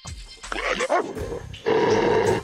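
A large Caucasian shepherd dog snarls and growls close by, rough guttural bursts with short pauses, agitated and aggressive.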